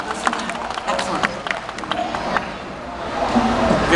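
Crowd clapping and cheering for a brave volunteer at a fire and ice science show at the South Florida Fair, a dense, steady patter of many hands with scattered voices, swelling slightly toward the end.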